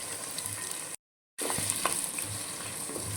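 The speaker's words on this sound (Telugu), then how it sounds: "ఇప్పుడు ఆనియన్స్ పచ్చిమిర్చి అనమాట వేసేసుకుందాం" Onions and green chillies sizzle steadily in hot oil for a chicken curry, a continuous crackling fry with light stirring clicks, broken by a brief silent gap near the start.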